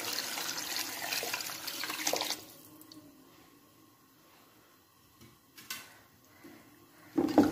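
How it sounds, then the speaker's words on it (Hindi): Water poured into a pot of desi chicken curry, a loud splashing stream for about two seconds, then quieter dribbles, a few knocks and a final clatter near the end. "तो अब हम इसमें ऐड करने लगे हैं पानी। 1 किलो के करीब हम डालेंगे इसके अंदर।"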